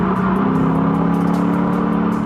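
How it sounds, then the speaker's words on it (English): Lexus IS exhaust humming steadily in 5th gear between 3,500 and 4,500 RPM, a deep continuous drone heard from inside the car with no talking. "there is a really distinct difference in the sound of the exhaust"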